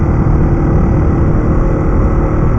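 A motorcycle engine drones loudly and steadily while riding a trail in Mississippi, a constant close roar with wind buffeting and no pauses.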